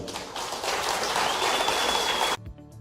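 Live audience giving a strong round of applause for a singer, a dense, fairly close burst of clapping that holds steady and then cuts off abruptly.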